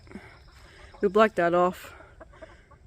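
Young chickens cluck in a shed during a morning farm routine, with a short burst of clucking calls near the middle over quiet background noise, and a person speaking briefly.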